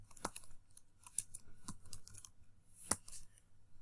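Sparse keystrokes on a computer keyboard typing a short word, a few separate clicks with gaps between them, fairly quiet and close with no talking.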